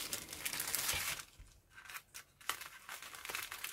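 Scissors cutting through plastic sprue or packaging while a 1/35 scale Borgward IV tank destroyer model kit is assembled, with the blades noted as somewhat blunt; repeated close crunching, crinkling snips and rustles fill the short stretch without talk.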